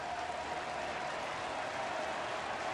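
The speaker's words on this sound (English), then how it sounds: "Crowd picks up at the K." A baseball stadium crowd cheers and applauds after a strikeout, a dense, steady roar of distant voices and clapping that fills the whole stretch.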